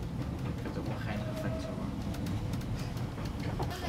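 A steam train on the Welsh Highland Railway rumbles steadily at a distance between Blaenau Ffestiniog and Porthmadog, a continuous low roar with faint rhythmic clicks and a brief squeal, fairly quiet throughout.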